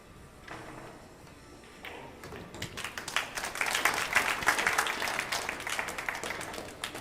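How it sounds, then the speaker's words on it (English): Scattered clapping from a spectator seated front row in the crowd at a 10-ball pool match, the Apex Wisconsin 10-Ball Open, swelling into moderate, fairly distant applause amid general crowd murmur. "Thea clapping for her husband."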